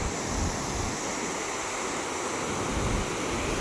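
A full waterfall at Valparai during the rainy season, heavy with water, gives a steady, dense rushing roar that stays even throughout with no voices.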